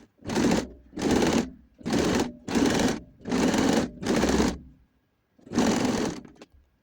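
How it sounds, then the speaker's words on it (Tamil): A domestic sewing machine top-stitches a folded kurti sleeve, running in six steady bursts of about half a second each, then a pause and one more burst, close and clear with no talk. "இப்போ நான் வந்து அதை ஃபோல்ட் பண்ணி மேலே தைச்சி எடுத்துக்கிறேன்"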